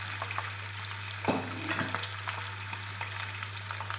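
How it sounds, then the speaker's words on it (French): Chicken wings and rice are stirred in a frying pan, giving a continuous close sizzle with a few scraping stirs over a steady low electrical hum. "Et on remue."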